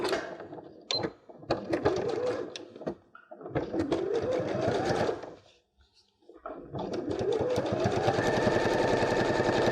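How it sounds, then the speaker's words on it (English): A sewing machine hems the ends of a quilted fabric strip, running in rapid mechanical bursts with a few short pauses, close and fairly loud, with no one speaking. "So hem both ends of your quilted fabric strip."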